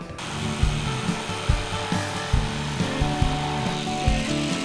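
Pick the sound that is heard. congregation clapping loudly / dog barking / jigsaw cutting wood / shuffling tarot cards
jigsaw cutting wood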